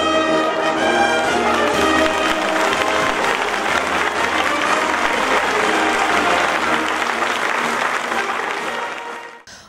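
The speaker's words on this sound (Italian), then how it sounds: "Uno scrosciante applauso si è elevato dai fedeli" Thunderous applause rises from the faithful gathered in a church square during the Madonna del Carmelo festival in Morano Calabro, a dense, sustained roar of clapping that holds steady and then tapers off at the end.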